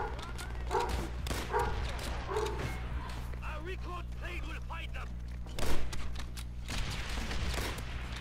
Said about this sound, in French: il me saoule mon chien des fois un peu à gueuler comme un porc là